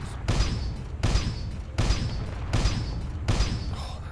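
Tank cannon fire in the video game Space Engineers: five heavy booming shots at a steady rhythm about three-quarters of a second apart, loud and close, each with a broad blast and a lingering rumble.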